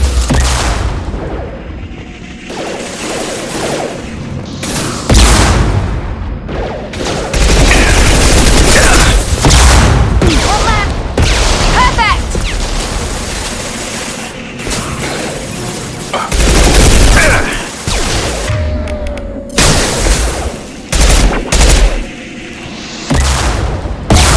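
Dense firefight in Mass Effect 2 Legendary Edition on Insanity difficulty: rapid bursts of weapon fire, booming impacts and explosions overlap loudly and continuously, rising and falling in intensity.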